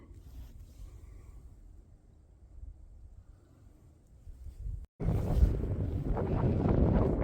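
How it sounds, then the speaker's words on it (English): Gusty outdoor wind on BLM land buffets the microphone, a low rumbling roar that grows suddenly much louder and harsher partway through. "It's gotten pretty windy on us here"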